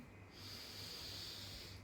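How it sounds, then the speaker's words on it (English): A slow, deep exhale through the nose during a yoga session, a soft, breathy rush that swells after a brief quiet moment and carries on faintly and close. "Taking 5 deep breaths here."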